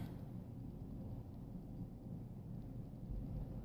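Steady rain falls outside just after waking, a dense, even wash of noise with a low rumble beneath, moderately loud and unbroken, with no voices.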